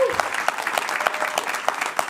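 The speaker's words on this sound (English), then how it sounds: "Let's give her a big round of applause." Audience applause for a speaker at an indoor community event, a dense steady wash of clapping hands from a crowd, fairly close and continuous throughout.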